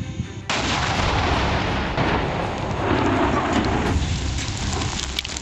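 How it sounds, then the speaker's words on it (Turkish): A steam boiler at a sawmill explodes: a sustained, roaring blast with crackling debris-like texture, loud and continuous after a sudden onset, no voices present. "Kereste fabrikasındaki buhar kazanı bomba gibi patladı."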